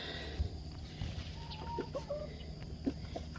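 Backyard chickens cluck in soft, scattered calls at a moderate distance over a quiet outdoor background, with no one talking.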